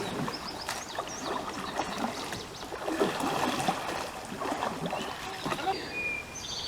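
A canoe is paddled on a river at New River State Park, NC. Soft splashes of paddle strokes and gentle water movement sit low in a quiet outdoor scene, with faint bird calls in the background.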